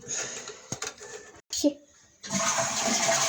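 Toilet flush of a cistern fitted with a SIAMP Monaco Quieto float valve: a short hiss and clunk, a brief pause, then a loud close rush of water that keeps running steadily.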